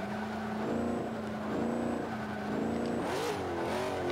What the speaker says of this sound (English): You see I'm downshifting there to get that.